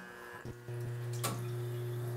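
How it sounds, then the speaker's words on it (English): Water runs out of a La Marzocco Linea Mini espresso machine, a steady close stream over a low motor hum that starts after a brief click. "I'm gonna go ahead and run all the water out of here."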